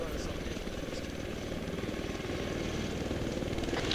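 Helicopter in the game Arma 3: a constant close rotor and engine drone with rhythmic low chopping, steady and loud, with a voice talking over it.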